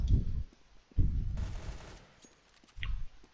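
Gunfire in Counter-Strike on the de_nuke map: bursts of rapid shots at the start and again around one second, a noisy stretch in the middle, then a final burst near the end, all loud with no talk.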